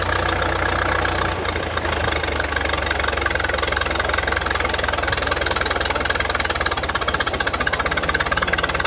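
A 1913 Zinn Buick antique race car engine runs close and loud with a rapid, steady mechanical chatter and rhythmic knocking throughout.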